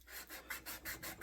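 Rhythmic back-and-forth sanding strokes on a wooden Adirondack axe handle, about five even rubbing passes, close and fairly quiet with no talk.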